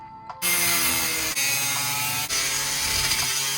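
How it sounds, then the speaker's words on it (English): A 7-inch cut-off wheel slicing through a thick aluminum frame support in a van, a loud steady high-pitched whine that starts abruptly and runs continuously with brief dips as the cut progresses. "Cut the frame support out. Here it is right here, big old chunk of aluminum, using a 7-inch cut wheel."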